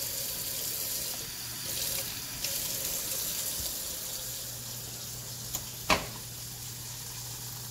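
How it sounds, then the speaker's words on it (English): Tap water runs steadily into a pot for boiling white rice, a continuous broad hiss with a low hum underneath and a few faint knocks and clinks from the pot. "Add some water to that."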